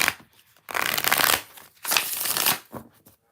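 Tarot cards shuffled in two long riffling bursts with a short flick at the end, close and fairly loud, with no voices.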